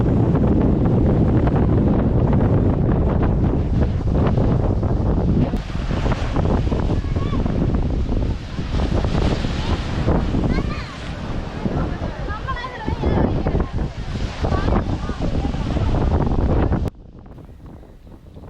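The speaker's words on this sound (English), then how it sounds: "As you can see, the waves are a little strong here in the Indian Ocean. See the sound of the wind and the sea." Strong Indian Ocean waves at Dhanushkodi crash and wash over a heavy, buffeting wind roar, loud and close, with the noise dropping sharply at the very end.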